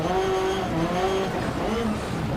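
Rally car from Dirt Rally 2.0 sliding through a corner on a slippery stage in heavy rain, its engine droning loud and steady with tonal revs rising and falling throughout.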